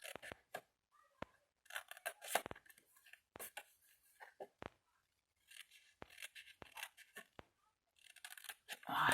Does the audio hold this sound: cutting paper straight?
yes